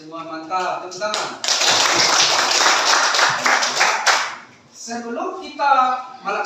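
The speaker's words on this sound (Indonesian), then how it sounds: "Ya, tepuk tangan." Schoolchildren in a classroom clap their hands together in a dense, loud burst lasting about three seconds, framed by a teacher's talk before and after.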